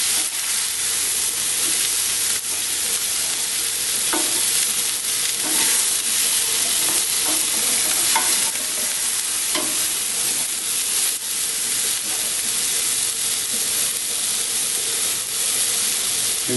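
White beans and tomatoes frying in a pan, stirred steadily, with a continuous loud sizzle and hiss and occasional scraping clinks of the spoon against the pan throughout.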